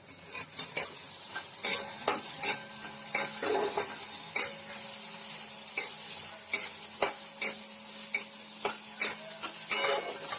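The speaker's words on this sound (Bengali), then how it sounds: "পেঁয়াজটা একটু ভাজা ভাজা হয়ে যাক।" Onions with a chili fry in a pan, giving a steady sizzle broken by repeated sharp clinks and scrapes of a utensil stirring against the metal, close up.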